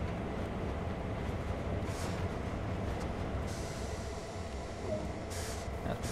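A locomotive in Train Sim World 2 rumbles steadily along, a constant low mechanical drone with faint hissing bursts layered over it, heard alone without voices.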